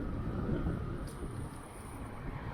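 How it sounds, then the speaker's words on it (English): Steady rushing wind buffets the microphone, low and rumbling, with gusts swelling and easing over a few seconds. "There's some gusts going along."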